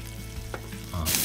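Beef pieces sizzle in a wok over high heat with green onion and garlic sprouts, a steady fry with a couple of stirring knocks before a sudden louder burst of hiss near the end.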